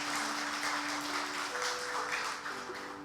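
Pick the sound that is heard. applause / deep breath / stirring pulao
applause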